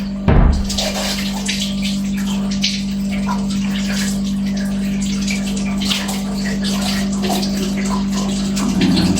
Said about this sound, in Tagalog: Hugasan ko muna ito.